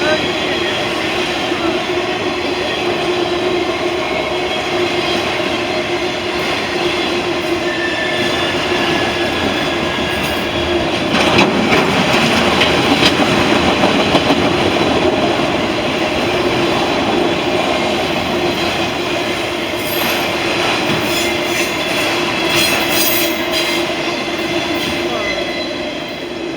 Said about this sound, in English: Quite a lot of freight for only 2 locomotives.